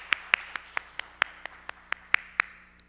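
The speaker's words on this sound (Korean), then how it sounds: "우리 하나님께 감사와 영광의 박수를 돌려드리겠습니다" Church congregation at a Sunday afternoon worship service gives a slow round of praise clapping to God, about a dozen sharp, evenly spaced claps in unison over a quiet room hum.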